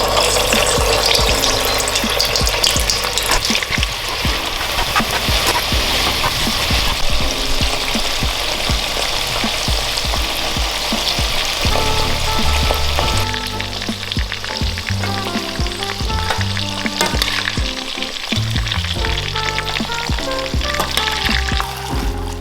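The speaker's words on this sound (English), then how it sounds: "I then finished them off in some oil to make them nice and crispy" Homemade potato chips sizzle steadily in hot oil for a deep fry, a loud, continuous crackle and hiss with occasional stirring or clinking partway through and no talking.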